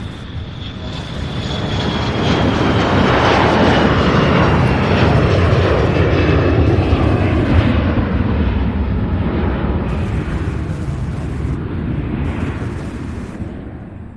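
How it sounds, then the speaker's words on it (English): Southwest airliner taking off at Louisville International Airport, a loud jet roar that swells in the first seconds and holds close and steady before easing slightly toward the end. "We have a Southwest flight also taxiing for takeoff"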